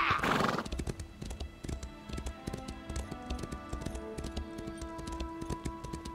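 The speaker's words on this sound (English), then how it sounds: "I'm using the Imperial Horse, which I got from Imperial Edition." The Imperial Horse from The Elder Scrolls gallops with rapid, rhythmic clip-clop hoofbeats and opens with a brief neigh, steady and fairly close.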